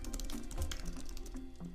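Someone types on a computer keyboard while writing an email, giving quiet, rapid, irregular key taps close by over a faint low hum, with no talking.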